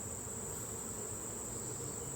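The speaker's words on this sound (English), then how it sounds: "that's how you shake the bees off" Honey bees shaken off a hive frame during a honey harvest, a faint, steady buzzing drone with a thin high whine running continuously throughout.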